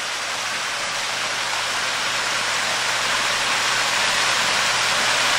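A waterfall on a river roars as a steady, dense rush of falling water, loud and continuous throughout with no other sounds standing out.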